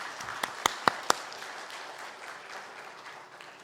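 A church congregation at a Sunday service claps in welcome, a few loud distinct claps up front and then softer scattered clapping that tapers off into room murmur.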